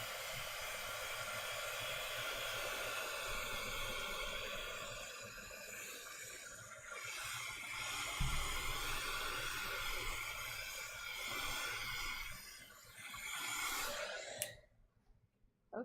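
A hair dryer blows close up to dry wet paint on an art journal page. Its steady, loud whooshing roar runs for about fourteen seconds, shifting slightly as it moves, then switches off abruptly.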